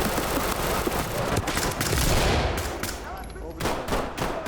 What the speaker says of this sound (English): And we're getting shot at now.